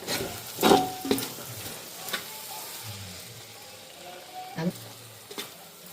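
Egg bhurji, scrambled egg with plenty of onion, sizzles quietly in a pan. A spatula stirs and scrapes it with a few sharp knocks against the pan.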